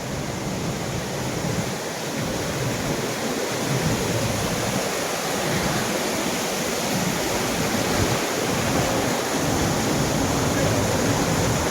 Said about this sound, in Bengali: ঝর্ণার শব্দ গুম গুম করছে।